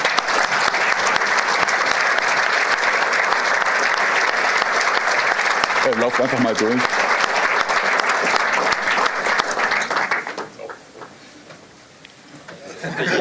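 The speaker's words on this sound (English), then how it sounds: "Let's give them a warm applause." A large crowd at a makeathon opening applauds steadily and loudly for about ten seconds, then the clapping fades out. A voice cuts in briefly over it.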